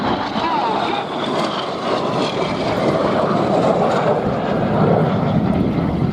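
Display aircraft at the Duxford Battle of Britain airshow, a sustained engine drone from planes flying a formation manoeuvre, with a commentator talking over the roar throughout.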